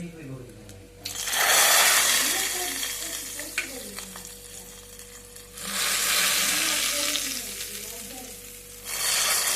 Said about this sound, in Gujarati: તો આપણે બે ચોપડીમાં આપણે જે અલગ અલગ ચટણી છે એમાં થોડો વઘાર નાખી દઈએ